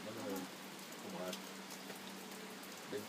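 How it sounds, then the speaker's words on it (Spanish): Rain falls steadily in a cloudy mountain setting in Oaxaca as a soft, continuous hiss, with faint distant bird calls and low murmuring voices in the background. "no se quitó la lluvia"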